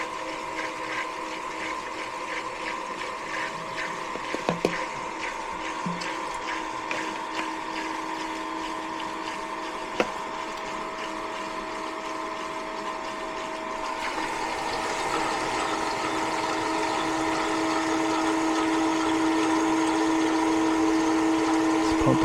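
An old, faulty HVAC condensate pump runs steadily and nearby, giving a continuous motorized hum with a strong steady tone. It grows slightly louder in the final stretch. There are a couple of brief clicks and no talk.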